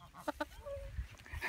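A few short, bright clucks from a chicken against a low background rumble, with scattered small noises around them.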